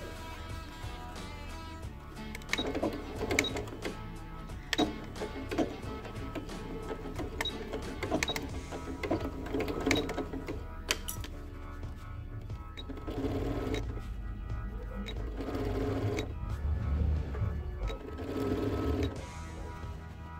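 A sewing machine stitches a fabric necessaire, a close rapid mechanical rattle running in bursts with brief pauses between seams.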